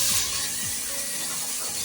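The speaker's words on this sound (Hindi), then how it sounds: "मैंने पानी दिखाया था वो डालूंगी सिर्फ" Water being poured into a pan of roasted vermicelli, a steady rushing pour with faint hiss, close and alone.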